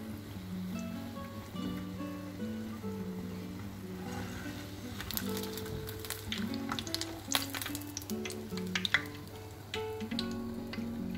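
Oil sizzling and bubbling steadily as banana fritters fry, with crackles and sharp pops growing busier midway, plus a low steady hum underneath.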